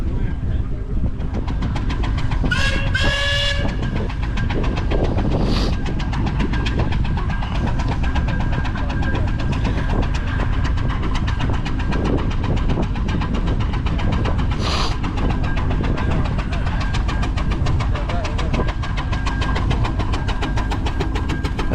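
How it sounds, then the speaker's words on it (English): A steam traction engine at a country steam fair labours up a hill with a loud, continuous mechanical rumble and a faint steady beat, while a few sharp whistle-like squeals break through near the start and middle. "you look at them chuffing up a hill like that and it's just no effort"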